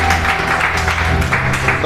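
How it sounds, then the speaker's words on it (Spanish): Church congregation clapping together during a Spanish-language worship service, a steady dense wash of hands filling the room with a low hum beneath. "Den un aplauso al Señor"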